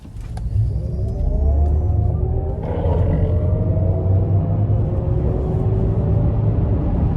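A 2025 Cadillac Escalade IQ Sport electric SUV launches hard from a stop, its rising electric-motor whine climbing steadily over loud road and wind rush, with no talking.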